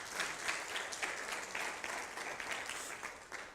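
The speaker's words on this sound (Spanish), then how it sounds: "Denle un aplauso al Señor por el ministerio de consolidación." A church congregation clapping together, a dense burst of applause with pulsing claps that holds steady throughout at moderate distance.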